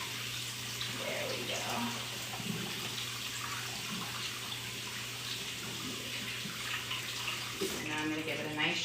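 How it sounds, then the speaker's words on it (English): A tap runs steadily into a sink while rice is rinsed under it, with a constant watery rush and a few splashes and shifts toward the end. "we're going to give it a quick rinse over here before we put it in there"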